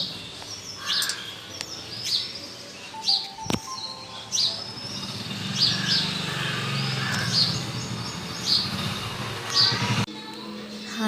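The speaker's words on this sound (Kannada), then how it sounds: "ಮಳೆ ಬಂದಿರೋದಕ್ಕಂತೂ ಪಕ್ಷಿಗಳ ಸದ್ದು ತುಂಬ ಚೆನ್ನಾಗಿ ಕೇಳಿಸ್ತಾ ಇದೆ." Birds chirp after rain in a home setting, with sharp repeated tweets spaced every second or so over a steady background hum, one louder click near the middle.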